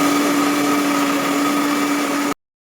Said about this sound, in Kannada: ಇಲ್ಲಿ ಕೊತ್ತಂಬರಿ ಸೊಪ್ಪು, ಪುದೀನ, ಕಾಯಿ ಮೆಣಸು ಹಾಗೆ ಶುಂಠಿ ಇದನ್ನು ಮಿಕ್ಸಿ ಜಾರಿಗೆ ಹಾಕಿ ಸ್ಮೂತ್ ಪೇಸ್ಟ್ ಮಾಡಬೇಕು